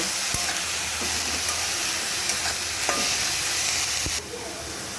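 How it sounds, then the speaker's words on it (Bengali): Radish greens being stirred with salt and turmeric in a hot pan: a steady sizzle with scattered scraping clicks of a spatula, fairly close, the hiss dropping a little near the end. "নুন আর হলুদ দিয়ে ভালো করে এর সঙ্গে মিশিয়ে দেব"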